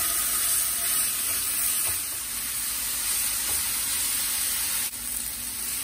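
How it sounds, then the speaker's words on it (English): Meat sears in a smoking-hot dry pan for a Chipotle-style burrito bowl, giving a loud, steady, close hiss with a few faint ticks and no talking. "It's like almost smoking hot. And I'm gonna put it in just dry because I seem to get the best char that way."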